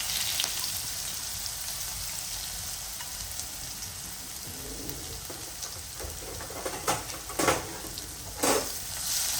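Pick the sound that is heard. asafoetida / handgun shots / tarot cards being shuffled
asafoetida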